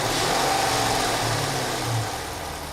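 Audi car engine being revved during misfire and oil leak diagnosis, a close, steady engine drone that swells slightly and then eases back toward idle.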